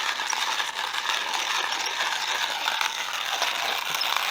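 A Mueller manual coffee grinder is cranked steadily through beans, making a loud, continuous ratcheting grind with gritty crunching and no pauses.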